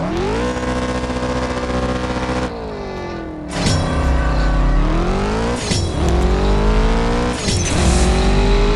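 A Mustang in CSR Racing 2 accelerates hard down a drag strip, its loud engine whine climbing through the gears with sharp dips at each of several upshifts.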